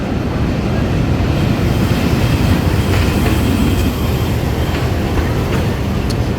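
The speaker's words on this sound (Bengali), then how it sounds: "আমাদের ট্রেন নির্ধারিত সময় থেকে 2 মিনিট বিলম্বে ফরিদপুর রেলওয়ে স্টেশন প্রবেশ করে।" The Rajbari Express rumbles into Faridpur railway station, a loud, steady roar of rolling wheels and carriages with faint clacks and squeals, heard from on board with no talk.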